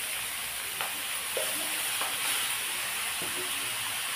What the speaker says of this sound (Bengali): এবার আমি এর মধ্যে দিয়ে দিচ্ছি এই গাজরগুলো যেগুলো কদ্দুকাস করেছিলাম সেইগুলো দিয়ে দেবো।